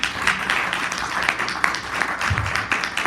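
A church congregation applauds and cheers in a steady, dense wash of clapping and voices, moderately loud and continuous, with crowd talk mixed in throughout.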